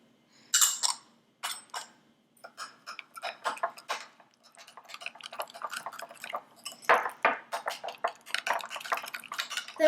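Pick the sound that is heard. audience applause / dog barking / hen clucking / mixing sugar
mixing sugar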